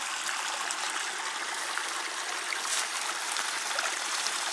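Spring water from a high-volume source spilling down to form a river, a steady broadband rush and trickle, close and continuous with no voices.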